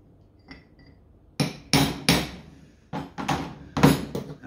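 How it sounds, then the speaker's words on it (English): A hammer strikes a manual steering box from an HQ during a rebuild, several sharp metallic blows in an irregular sequence, close and loud, with one faint tap before them. "I might need a bigger hammer than that to unlock it."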